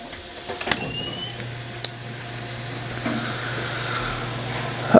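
A 4300-F spin rinse dryer with a SlickDevice F1 controller and a 6-inch substrate insert spins up into a steady low mechanical hum, with a few faint clicks and clanks over it.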